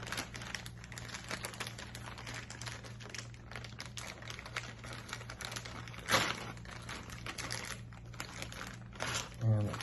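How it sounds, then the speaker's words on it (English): A plastic bag is opened up close, crinkling and rustling in a run of irregular crackles, with a few sharper bursts toward the end. "So let's go ahead and open the bag."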